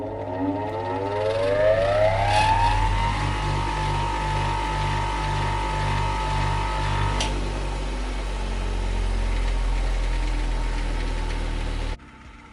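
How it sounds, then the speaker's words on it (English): Guild 150W bench grinder, model PGB150G, with an induction motor switched on and running up to speed. Its whine rises steadily, then holds a steady hum until the grinder cuts off abruptly near the end, with no talking. "I'm going to turn on the grinder for the first time so we can hear how it sounds"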